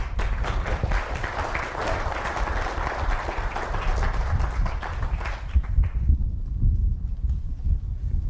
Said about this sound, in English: Round of applause for the Kelly family that hosted us here